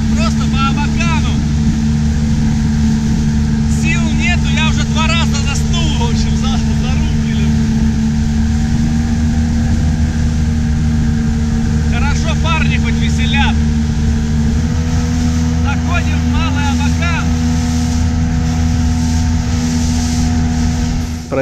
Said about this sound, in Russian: максимально подняли мотор, так что водозаборник оказался на сантиметр выше водоводной пластины, и дело наладилось, лодка полетела как стрела